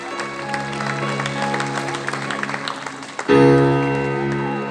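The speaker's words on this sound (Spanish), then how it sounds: "Un aplauso grande para Oscar, que cumplió los años el mismo día que yo." An audience applauding at a live music show, steady clapping under a sustained band tone, then cut off as loud amplified music with a strong bass note enters.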